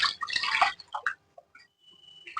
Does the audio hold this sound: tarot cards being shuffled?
no